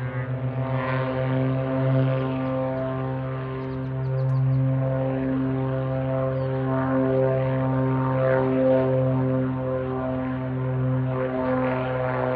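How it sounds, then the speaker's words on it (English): Steady droning of a propeller airplane near an airport runway in Gunnison, Colorado, a continuous engine hum with strong low harmonics that holds fairly level throughout, no talking over it. "Keep hearing a lot of planes taking off."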